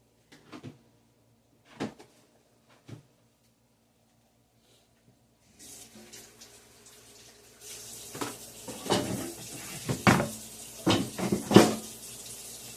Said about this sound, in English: We're going to rinse these potatoes. Rinse them off a little bit.